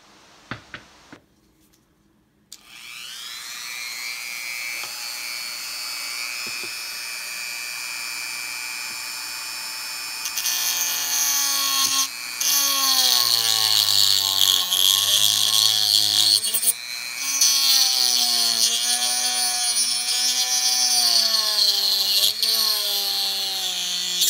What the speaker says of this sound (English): I'm going to take my Dremel and I'm going to very carefully take this little spot off right here